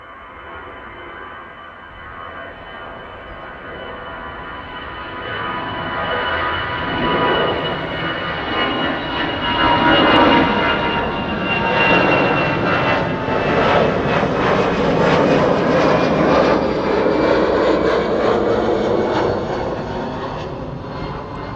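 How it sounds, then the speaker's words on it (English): An EasyJet Airbus A319 departs Amsterdam Schiphol for London Gatwick, its jet engines rising into a loud, broad roar that swells over the first ten seconds and then holds steady and close to the end. "Now this is EasyJet A319 going to London Gatwick."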